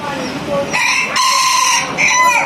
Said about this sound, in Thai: มีไก่ ไก่แจ้ด้วย ไก่แจ้ ไก่แจ้